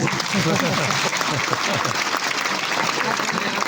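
Applause from an audience at a teachers' association event in Lucknow, a busy crowd clatter running under a man's amplified speech throughout.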